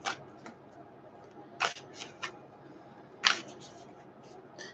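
Oracle cards being shuffled by hand, heard as a few sharp, brief riffling snaps spaced irregularly over a faint steady background.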